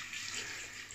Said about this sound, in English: throw some cold water in the brush